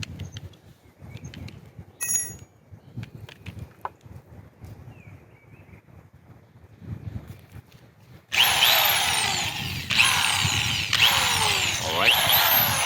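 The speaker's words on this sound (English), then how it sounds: "I'm gonna go ahead and drill all 3 pilot holes first" A power drill bores pilot holes into concrete to fasten wooden studs, starting with quiet scattered knocks and handling, then breaking into a loud, sustained grinding whine with two short pauses toward the end.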